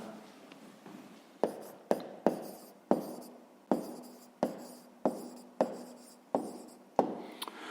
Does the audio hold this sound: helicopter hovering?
no